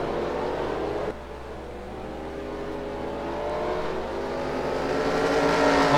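V8 Supercars at a race meeting accelerate hard out of a corner, a loud continuous engine roar building steadily with layered harmonic tones over about six seconds, with no talk.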